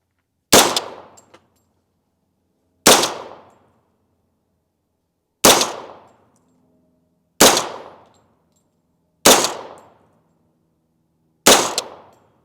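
CMMG Banshee firing .45 ACP rounds at a target: six loud, sharp single shots spaced about two seconds apart, each with a quick decaying ring and silence between.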